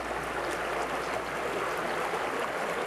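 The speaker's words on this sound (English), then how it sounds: "the sound of the water." A river flows in a steady, dense broadband rush with no breaks, close and fairly loud, with no voices over it.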